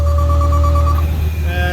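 A toy fire truck's small electric motor whirs steadily as it lifts the truck to level it, a thin continuous hum with a faint tonal whine that shifts pitch partway through, close and alone.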